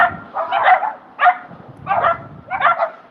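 Several dogs bark in short bursts indoors, five loud, close barks spaced about half a second apart, with some yipping.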